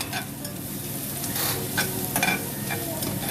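Garlic sautés in hot oil, then onion and ginger join, for Cavite-style chicken tinola; a close, steady frying sizzle runs throughout with stirring scrapes and small crackles, and no voices.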